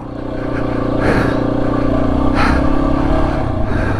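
A Yamaha XT250 dual-sport motorcycle rides hard over rough off-road terrain on an ATV track, its engine droning steadily and loudly throughout, with rises in revving and some clatter from the ride.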